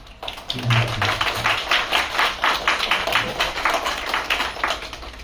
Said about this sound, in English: a round of applause for all innovators